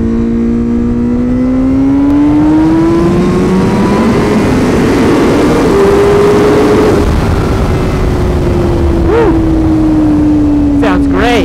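A 2021 Honda Fireblade motorcycle with an aftermarket exhaust revs hard. Its loud engine note climbs, holds high and then eases back over about eleven seconds, close and continuous, with short sharp blips near the end.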